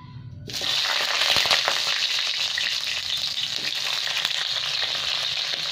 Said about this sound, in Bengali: এবার আমি ফুলকপিগুলো ভেজে নেব।